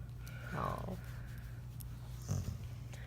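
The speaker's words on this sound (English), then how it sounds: "it's very important that we play with Kitchen Dog" A dog snorts and sniffs while playing in a home kitchen, with two short, breathy bursts standing out over a low steady background hum.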